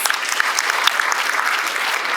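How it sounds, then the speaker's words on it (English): A breakfast crowd at a chamber of commerce event breaks into loud, dense applause, a steady close wash of many hands clapping throughout. "could you raise both hands and give those folks a round of applause?"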